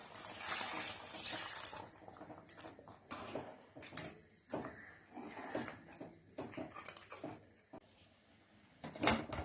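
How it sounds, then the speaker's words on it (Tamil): Water is poured into a pot of Tamil-style mutton gravy, a faint, continuous splashing rush mixed with soft kitchen clatter and knocks. "இப்போ இந்த கிரேவிக்கு தேவையான அளவு நம்ம தண்ணி ஆட் பண்ணிக்கலாம்"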